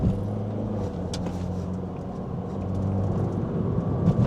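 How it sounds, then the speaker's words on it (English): A 2014 Fiat 500 Abarth drives through corners, its engine giving a low steady droning hum with road rumble beneath, the note dipping and then rising again as it pulls out. "So let's actually show you how this car behaves while cornering."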